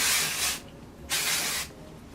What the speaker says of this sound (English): So I'm just going to spray this everywhere